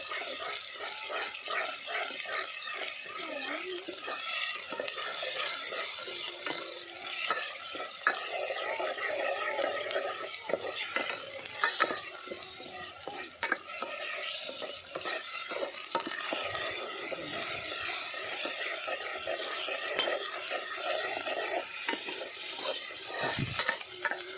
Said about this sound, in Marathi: आपला घरगुती मसाला आपण आता पूर्ण तळून घ्यायचं